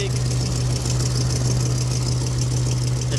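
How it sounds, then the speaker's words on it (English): A V8-swapped Ford Ranger idles with an exhaust leak, giving a steady, loud, close engine drone with a constant low hum and a ticking, raspy edge that runs unbroken without speech. "Sounds like I got an exhaust leak."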